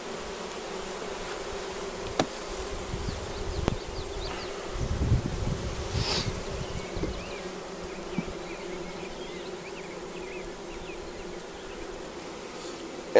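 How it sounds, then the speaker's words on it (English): Honeybees buzz steadily around a newly installed beehive, a dense continuous drone with individual bees passing close by, plus occasional rustling and handling noises. "Yeah, I got a bee in my pocket."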